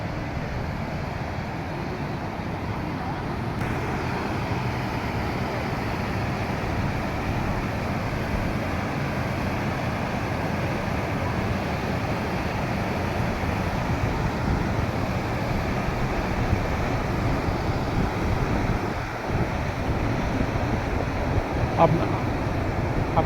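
Rushing water from Pykara waterfall near Ooty makes a continuous, dense roar with a broad wind-like wash that stays steady throughout.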